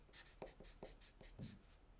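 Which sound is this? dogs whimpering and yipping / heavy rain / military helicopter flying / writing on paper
writing on paper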